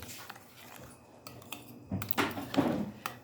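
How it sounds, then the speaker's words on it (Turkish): A spoon stirring sauce ingredients in a bowl, quiet at first, then a few clinking scrapes and taps against the bowl growing louder toward the end. "Bunu böyle karıştıralım"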